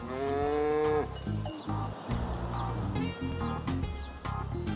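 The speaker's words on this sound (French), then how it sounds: "se trouve le troupeau de Claude Hurlimann, des vaches de race brune suisse et des Jersey" Brown Swiss and Jersey dairy cattle on a farm in the Jura region moo loudly and repeatedly, several long overlapping bellows from the herd close by, with no talk.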